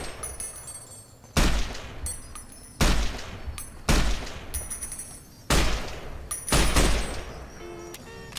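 Repeated bursts of gunfire in Fallout New Vegas, fired while the character runs, arriving as several loud volleys separated by short gaps over a steady game background, with no talk.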